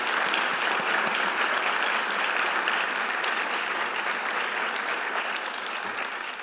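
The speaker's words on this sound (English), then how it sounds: "So if I could just do a round of applause for all of our colleagues." A room full of guests at an International Education Week gala gives a sustained round of applause, dense and even throughout, tapering slightly toward the end.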